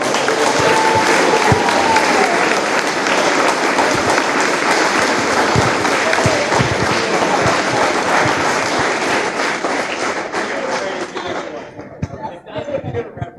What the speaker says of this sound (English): So if we could get another round of applause for them all.